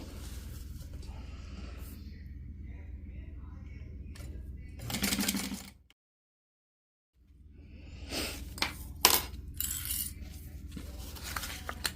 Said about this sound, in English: We will take this to the machine where we will sew at 1/4 of an inch to secure this.